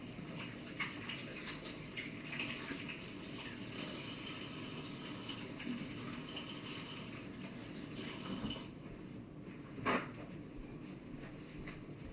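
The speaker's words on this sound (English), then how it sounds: "I gotta wash my hands." Tap water runs steadily into a kitchen sink while hands are washed, a close, continuous splashing rush with a brief louder splash near the end.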